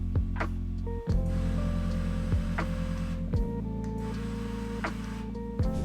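An air assist pump for a laser engraver runs inside an enclosure, giving a steady, close, droning hum with a tonal buzz. A few soft clicks and brief dips break the hum.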